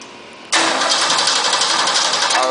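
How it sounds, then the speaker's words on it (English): A car engine cranks and catches with the ignition coil disabled during a starting-circuit voltage drop test, bursting abruptly from near silence into a loud, steady roar that holds to the end. "now we're going to go ahead and start the engine"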